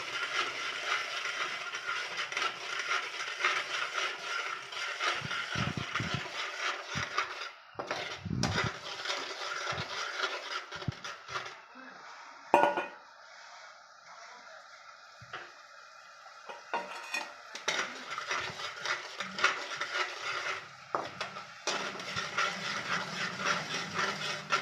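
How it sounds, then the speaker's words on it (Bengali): Ground spices stirred in a little oil in a pan for a paneer dish, with a steady scraping and clinking of a utensil against metal, close and continuous, easing into quieter scrapes midway before resuming. "এটা দিয়ে কিছুক্ষণ নাড়াচাড়া করতে হবে।"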